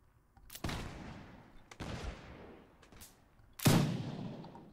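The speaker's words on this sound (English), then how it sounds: "I love the sound of this pistol, man." Pistol shots in the video game Mount & Blade: Warband, three or four sharp, loud reports with ringing decays spaced about a second apart; the last shot is the heaviest.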